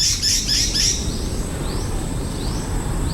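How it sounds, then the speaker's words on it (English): A bird chirping in a quick run of high, bright notes near the start amid the vegetation of Sibonga Cliff in Cebu, followed by fainter calls over a steady outdoor rumble. "Yeah, you hear that bird?"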